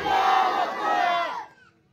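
A large rally crowd at a political public meeting in Ambajogai roars a chanted response in unison, a loud, dense mass of voices that swells, dips and swells again before cutting off abruptly into quiet.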